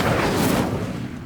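Incendio, a fire spell in the video game Hogwarts Legacy, erupts as a dense, loud burst of roaring crackle that swells and then fades over about a second, with no voices.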